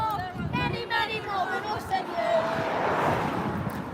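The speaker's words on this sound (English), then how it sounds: "So this is the edge of the crowd." Chattering babble from the edge of a crowd of protesters gathered outside a hotel on Roman Way in Cannock, a continuous outdoor murmur of many voices at a moderate distance, with some wind.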